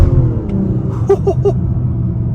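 Engine of a 2024 Mazda CX-90 Turbo Premium Plus heard from inside during a test drive, a low steady drone with a brief burst of higher tones midway, no talk.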